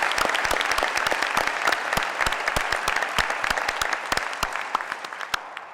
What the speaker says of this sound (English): let's give another round of applause to the team that did these ads